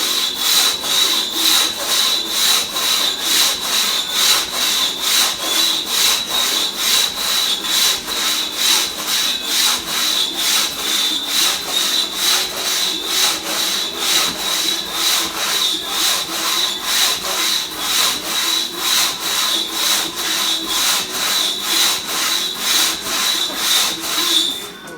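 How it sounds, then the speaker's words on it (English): A single buck saw cuts through wood in a steady, even back-and-forth rhythm, its rasping strokes loud and close, repeating continuously with no pauses throughout. "sawing fairly straight, straighter than I ever have before"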